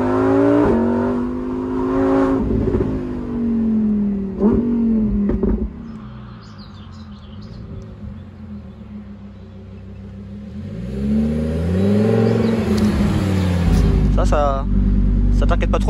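A Lamborghini Huracán EVO in sport mode with its exhaust valves open revs in several rising and falling sweeps, loud and close, then idles lower before climbing again, with a person talking over parts of it.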